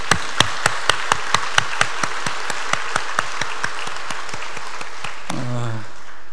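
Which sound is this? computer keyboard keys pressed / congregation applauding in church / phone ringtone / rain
congregation applauding in church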